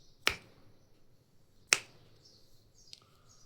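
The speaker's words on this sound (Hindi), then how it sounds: "नहीं होता भाई चुटकी वाला हमसे" Two crisp, isolated finger snaps land about a second and a half apart, followed by a faint little chirp-like squeak, all in an otherwise quiet room.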